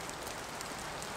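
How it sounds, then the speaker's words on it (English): Steady rain coming down outdoors, a continuous soft hiss of drops hitting surfaces with faint scattered patters, fairly quiet and unbroken with no voices. "Rain's starting to come down now"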